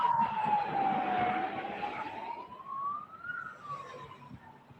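A 108 emergency ambulance siren wails in a long rising and falling tone at moderate distance, steady throughout with faint road traffic underneath.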